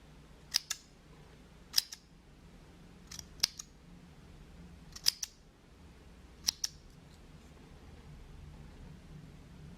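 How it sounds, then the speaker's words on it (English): Scissors cut open a cheap discount-store pillow to pull out its cotton stuffing, five crisp snips spaced about a second and a half apart over a faint steady hiss, close and clear, with no talking. "Let's cut it open and throw out the cotton"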